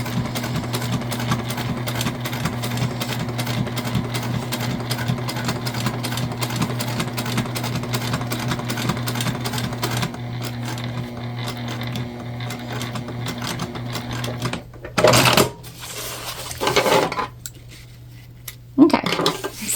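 A sewing machine hums in a rapid, even stitching run around the exterior of a bucket bag, then stops and gives way to a few brief bursts of handling noise.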